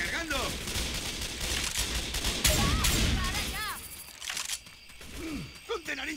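Gunfire in the zombie shooter Left 4 Dead 2 rattles in dense, continuous volleys with mechanical clatter and reloading clicks. Game voices and pitched effects run over it throughout.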